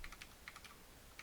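Keys on a computer keyboard plugged into a fanless homelab server are tapped, a few quick, quiet clicks in an irregular rhythm.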